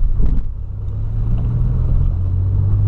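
A Volkswagen Polo driving through heavy rain and floodwater, a loud continuous low engine rumble with hissing water spray and no talk.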